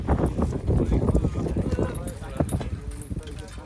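Hooves of working horses clip-clopping at a ploughing championship outdoors, irregular steps under loud crowd chatter and nearby voices.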